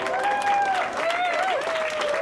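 Crowd at an airport welcoming Honor Flight veterans, dense steady applause and cheering with a whistle-like tone and music drifting above, close and sustained.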